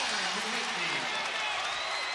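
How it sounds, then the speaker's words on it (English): Basketball crowd at the WCC Men's Championship, Gonzaga vs. Saint Mary's, roaring in a broad sustained wash of cheering and applause, loud and continuous, with an announcer's voice faintly underneath. "You can hear the anticipation in the crowd every time he gets it."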